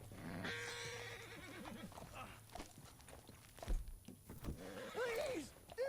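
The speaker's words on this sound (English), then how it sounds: "Uy, el fucking caballo." A horse in Red Dead Redemption 2 whinnies and clops amid game sounds, with hoofbeats, thuds and a rising neigh near the end; a voice speaks briefly over the mix.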